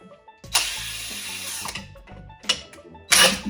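A heavy-duty 24-volt cordless drill spins a Colorado hay probe, whirring loudly in one long burst, then in two shorter bursts, with quiet pauses between.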